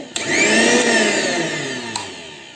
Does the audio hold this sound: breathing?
no